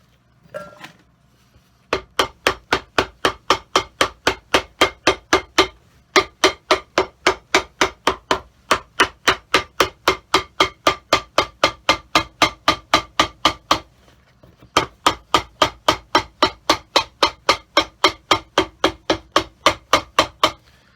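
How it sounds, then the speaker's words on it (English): Steady, loud hammer blows ring out in a cobbler shop during restoration of a Tom Ford leather shoe, struck in fast regular bursts with two brief pauses and no talking. "Somebody was complaining about the noise of the hammers."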